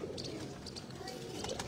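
Large pigeons coo softly in a steady low murmur, close but faint, with a few light higher chirps mixed in, and voices of people talking nearby underneath.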